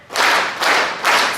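An audience at a scholarship award ceremony claps three times in unison, each loud collective clap landing at an even, deliberate pace.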